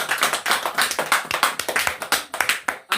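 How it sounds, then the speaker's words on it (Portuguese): A church congregation claps during a live worship service, a quick rhythmic run of sharp hand claps in steady pulses, fairly close and lively for about three seconds. "Dê uma linda salva de palmas."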